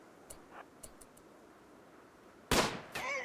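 A single sharp bolt-action rifle shot in RimWorld cracks out loudly after near-silent ticking, followed by a brief fizzing tail.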